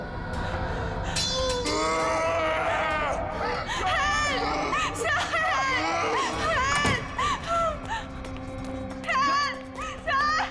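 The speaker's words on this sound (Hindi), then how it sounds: "चीख क्यों रही हो?" A woman screams in a dense, chaotic scene from a Hindi crime drama, her shrill cries rising and falling over a constant wall of noise, crowd clamour and clinks, with other voices mixed in.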